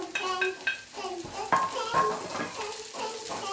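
Green peppers sauté with onion and garlic in a pan for a farm kebab, giving a soft sizzle marked by utensil clinks and scrapes, fairly faint and close.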